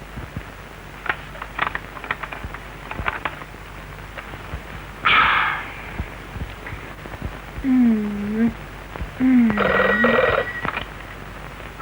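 A telephone rings in two short bursts, separated by a pause, after a stretch of quiet background with faint scattered sounds.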